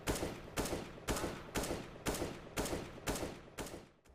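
Video game automatic gunfire under aimbot-controlled recoil: eight sharp, evenly spaced shots at about two per second, each with a short decaying tail, fairly faint overall and with no voices.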